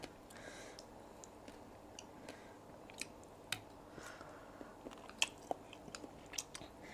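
Crunchy raw green vegetables in a Thai papaya-style salad dressed with som tam sauce are chewed close to the mic, giving irregular soft crunches and bites over a low background hiss.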